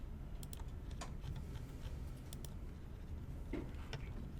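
Computer keyboard typing with a few sharp mouse clicks, quick irregular taps close by against a steady low background hum, no talking.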